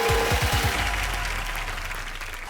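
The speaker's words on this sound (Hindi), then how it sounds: "ताली बजा दे" Audience applause in a comedy show setting, a dense, loud wash of clapping that holds steady throughout, with a few low thumps near the start.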